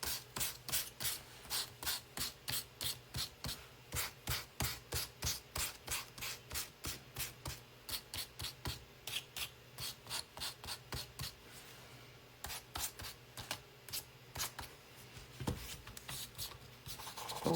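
Rhythmic back-and-forth rasping of sandpaper on wood, steady strokes repeating quickly, close and fairly quiet, slowing and turning irregular toward the end.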